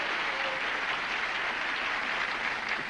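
Studio audience on a 1970s game show bursting into steady, dense applause, a sustained wash of clapping that holds at full strength throughout.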